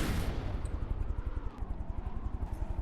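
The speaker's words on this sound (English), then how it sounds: "And cram cannon shell." Cram cannon firing shells in the combat game From the Depths, a rapid rhythmic series of heavy booming thumps over a constant low rumble, loud and close, with no talk.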